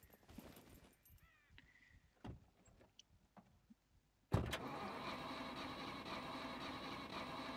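Car engine in the survival video game SCUM cranking and catching, followed by a loud steady running drone after some earlier clicks and clunks.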